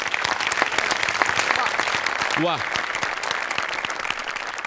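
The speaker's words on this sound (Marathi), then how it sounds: "अमोलसाठी एकदा जोरदार टाळ्या व्हायला पाहिजे" Audience applause for Amol fills a comedy show stage, steady dense clapping throughout with a brief voice cutting through the middle.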